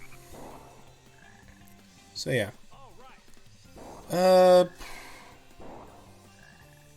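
Frogs in the video game Sonic Heroes let out a couple of short, loud, buzzy croaks amid quieter game music, with someone talking between them.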